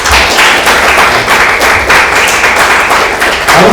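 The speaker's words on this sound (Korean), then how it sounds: "우리 옆에 있는 사람들 격려하고 환영하는 마음으로 박수!" A youth congregation at a Korean high school Sunday church service claps loudly and close, rhythmic bursts of many hands pulsing steadily for a few seconds.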